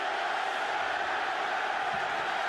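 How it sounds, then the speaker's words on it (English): Stadium crowd at a college football game between Miami and Virginia Tech, a steady loud roar reacting to a replay on the big screen, continuous and distant-sounding with no distinct peaks. "the crowd just saw something on that replay on the Jumbotron."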